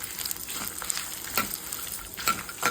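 Dried red chillies, green chillies and cumin fry in a pan, a steady crackling sizzle with a few sharper stirring clicks and scrapes, close up with no talking.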